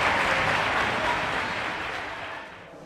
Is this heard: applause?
yes